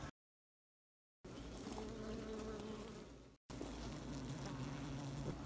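Honey bees swarm and buzz around a hive near a lattice, a dense, steady drone that is close and loud, broken by a brief cut to silence near the start and another short gap later.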